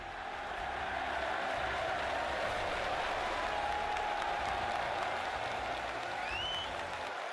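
At the Crucible in Sheffield, a big snooker crowd roars and applauds in a loud, sustained wall of cheering and clapping that swells and holds for several seconds.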